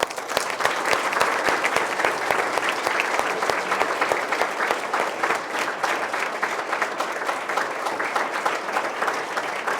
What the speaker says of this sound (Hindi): तो उनके लिए एक बार जोरदार तालियां।